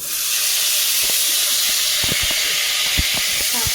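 Bitter gourd frying in hot oil left from frying fish, a loud, dense, steady hiss and sizzle heard up close, with small crackles and spits popping through it and no voices.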